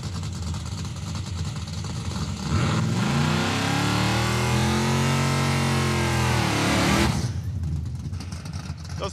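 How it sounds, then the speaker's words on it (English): Drag car with a 383 Mopar engine doing a foot-braked burnout on brand-new tires, a loud, close engine roar that swells with revs and pitch sweeps for several seconds, then drops back to a rumbling idle. "They're gonna need more of a burnout than that, I fear."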